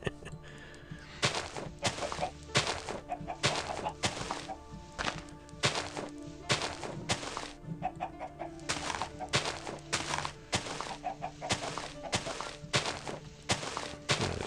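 Chickens and a rooster clucking in the video game TerraFirmaCraft, repeated short clucks over a background of regular thudding game sounds.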